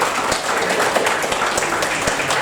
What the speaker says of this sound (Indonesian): Sekali lagi tepuk tangan untuk beliau.